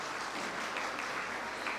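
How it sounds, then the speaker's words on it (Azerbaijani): An audience at a certificate presentation ceremony applauds in a steady, dense wash of clapping that continues throughout. "Bir özümüzü alqışlayaq"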